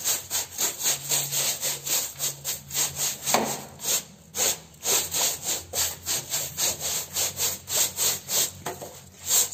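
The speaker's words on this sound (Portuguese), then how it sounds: "vou jogar aqui um pouquinho, gente, ó. E vou esfregar, ó, com a vassoura mesmo" A broom scrubs a rug on the floor with soapy water, making steady rhythmic bristle strokes that rasp back and forth, close and moderately loud, with no voices.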